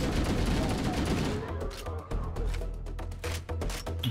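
Rapid automatic gunfire from the Halo: Master Chief Collection video game rattles in dense bursts, first as a heavy continuous barrage and then as choppier repeated volleys with game sounds layered underneath.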